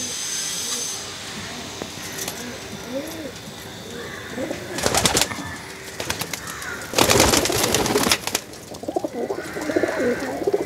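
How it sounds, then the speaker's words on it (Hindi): Teddy pigeons in a loft give soft, rolling coos close by, with louder bursts of flapping or hissing noise in between and a person talking faintly at times. "ये टैडी कबूतर है।"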